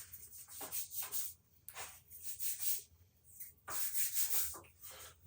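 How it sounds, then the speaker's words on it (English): Hands dusted with flour rubbing together over a sink after shaping sourdough, a close, dry, raspy swishing in several bursts separated by short pauses. "I'm rubbing my hands together to get any little bits off of there"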